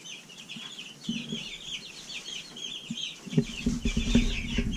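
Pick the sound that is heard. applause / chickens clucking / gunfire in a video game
chickens clucking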